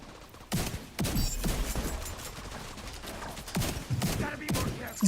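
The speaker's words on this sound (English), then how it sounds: "I hear gunfire." Repeated gunfire bursts crackle through a firefight in the video game The Division, with loud volleys of automatic shots in clusters across the whole stretch and faint game sounds between them.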